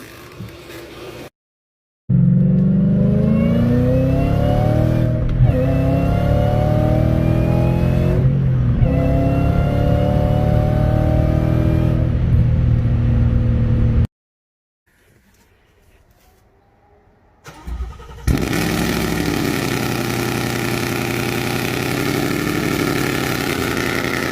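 A Ford Mustang engine revs loudly several times, the pitch climbing and falling with each push, then cuts out briefly before settling into a steady rumbling idle.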